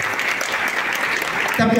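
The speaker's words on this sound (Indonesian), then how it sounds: "Kasih tepuk tangan dong." Audience applause at a school Leadership Day event, a steady wash of clapping throughout that shifts near the end as a voice briefly cuts in.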